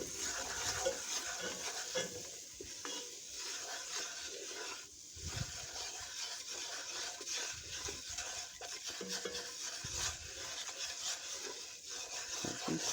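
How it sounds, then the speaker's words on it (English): A spoon scrapes and swirls through a flour roux in a hot pan, giving soft, continuous rubbing and stirring sounds with occasional louder scrapes, fairly quiet and close. "Now we're going to stir until it's brown."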